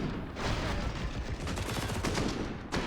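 An MP9 submachine gun fires in rapid bursts during a CS:GO match on the Nuke map, giving a dense, continuous crackle of shots that stays loud throughout.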